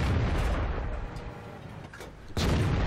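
Tank main gun firing in the World of Tanks game, a T54E1 medium tank on the Malinovka map: loud booming blasts, one at the start and another near the end, over a rumbling battle background.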